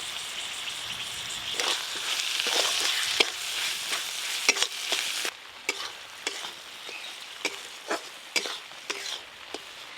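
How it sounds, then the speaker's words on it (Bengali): Chopped tomatoes and salt go into a hot, sizzling pan and are stirred, with a crackling fry followed by a series of scraping strokes against the pan, close and loud. "এবার টমেটো কুচি দিয়ে দেব"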